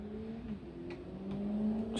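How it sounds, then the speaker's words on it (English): A motorbike passing by outside, a low droning engine note that shifts in pitch and then holds, fairly faint and distant, with no talking. "Excuse us, someone going past on a motorbike."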